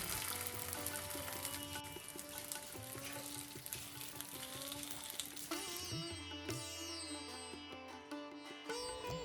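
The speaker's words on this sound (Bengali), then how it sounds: "তেলটা যখন গরম হয়ে গেল তখন পাতুরিগুলো আস্তে আস্তে ওই তেলের ওপরে" Bhetki fish paturi, wrapped in banana leaf, fries in hot mustard oil in a frying pan. The sizzle is soft and steady, set low under prominent background music throughout.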